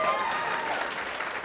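Brief burst of audience applause at a live stand-up comedy show, many hands clapping steadily at moderate level with faint crowd voices mixed in.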